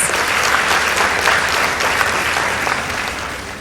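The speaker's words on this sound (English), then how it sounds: "Let's give them a round of applause." An audience at a girls' high school debate competition bursts into sustained applause, a dense continuous wash of many hands clapping that fades slightly toward the end, with no voices standing out.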